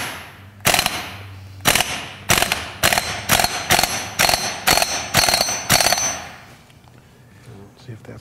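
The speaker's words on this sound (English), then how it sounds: "Just suggest you run it up with a impact set to max." An impact wrench with a 36 mm impact socket set to max hammers a nut in about ten loud, evenly spaced rattling bursts, each roughly a third of a second long, close up, followed by quieter room noise.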